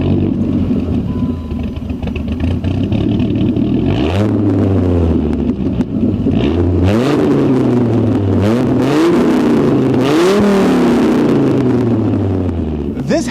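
Engine of a first-generation Dodge Viper revving hard through an exhaust with no X-pipe, several rising and falling rev sweeps in a loud, raspy, close-up roar that continues throughout.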